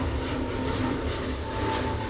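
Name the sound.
KLM airliner departing Manchester Airport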